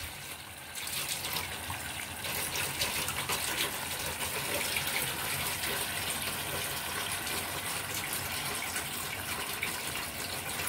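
Water pours steadily into a pan of fish curry being cooked for doi katla, a continuous gushing splash lasting the whole stretch at close range with no talk.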